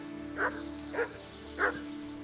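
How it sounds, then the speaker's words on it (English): A dog in the medieval game Kingdom Come: Deliverance gives three short, moderately loud barks about half a second apart over a steady background hum. "No, that's the dog."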